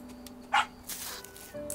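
Brief cartoonish dog bark and yip from a pet in the farming game Big Farm Story, a single sharp bark followed by faint softer yelps over quiet game ambience.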